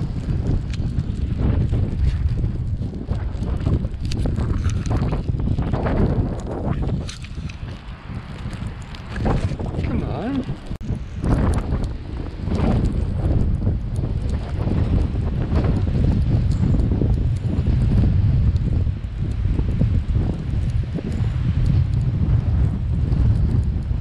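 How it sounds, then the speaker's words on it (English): Strong, cold winter wind outdoors in sub-zero weather, buffeting and roaring across the microphone in loud continuous gusts with low rumbling surges throughout, no speech. "But a strong wind makes it feel colder."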